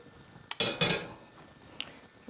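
Sauce strained into a smaller pan, a few close metallic clanks and scrapes of pans and utensils with a brief pouring rush, quiet in between.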